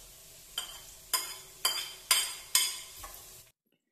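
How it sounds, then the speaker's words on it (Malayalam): Chopped tomato going into a frying Kerala chicken curry, giving five sharp sizzling bursts about half a second apart as the pan is stirred, each fading into a soft fry before the sound cuts off. "തക്കാളി കൂടെ ആഡ് ചെയ്യാം"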